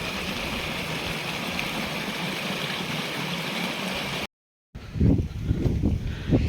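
Running water rushes steadily for a few seconds, then after a brief gap there are louder, uneven gurgling bursts.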